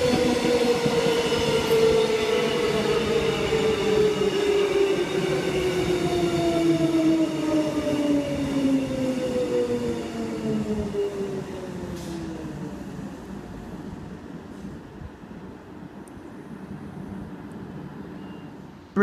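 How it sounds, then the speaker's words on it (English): A Queensland Rail EMU electric train pulls into a platform at Wooloowin station in Brisbane, its motor whine falling in pitch as it slows, with rumbling wheels and rail noise close by. "Brisbane City and Park Road train arriving into platform 1. EMU 29 leading."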